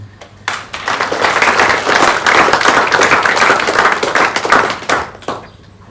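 Crowd applause at a school sports awards ceremony, a loud, steady patter of many hands clapping that swells quickly, holds for several seconds, then thins into scattered claps near the end.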